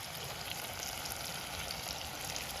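Oil sizzles and crackles steadily as a tempering cooks in a pan close by, a dense hissing spatter that continues evenly without any voices.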